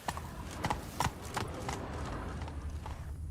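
Horse hooves clip-clopping at a gallop in The Witcher 3, a brisk run of evenly spaced thuds at moderate distance over steady outdoor ambience.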